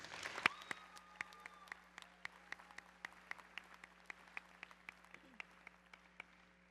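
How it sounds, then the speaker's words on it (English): An audience at a high school graduation ceremony claps for guests, a quiet, scattered applause with distinct individual claps ringing out in a large hall, sustained and slowly thinning, with no voices over it. "Please join me in a round of applause for our guests."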